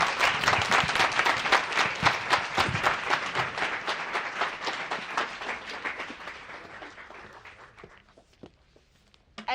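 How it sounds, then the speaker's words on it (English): An audience applauds at a World Food Day celebration, with dense, steady clapping that stays loud for several seconds and then gradually thins and fades toward silence at the end. "Another round of applause for Baldemar Velasquez"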